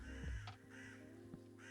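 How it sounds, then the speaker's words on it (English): Several harsh crow caws ring out as ambient sound in the video game Minecraft, spaced unevenly over a steady hum of background tones, moderately loud with no talk. "Like, I can hear a crow right now, but I can't see a crow."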